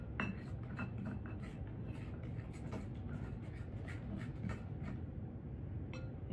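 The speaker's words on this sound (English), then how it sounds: "We'll stir that up. Again, trying to make sure that we get the butter mixed in." Flour and butter are stirred into apple strudel dough in a bowl, giving a quiet, steady run of soft scraping with light clinks of the utensil against the bowl, and no voices.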